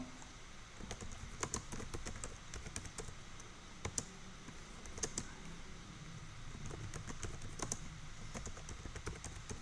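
Steady typing on a computer keyboard while entering a company's services into a Chrome SEO extension, with rapid, close keystroke clicks running throughout and no talking.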